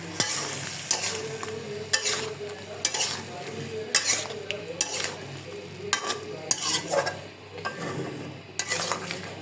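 Green bananas fry in a pan with oil left from cooking fish, sizzling up close under repeated stirring scrapes and occasional clinks of utensil on metal.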